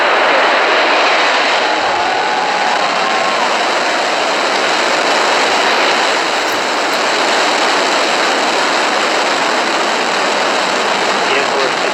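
A SpaceX Falcon 9 rocket's engines roar at liftoff, a loud, continuous broadband rumble that fills the whole clip without letting up, with a few low thumps early on.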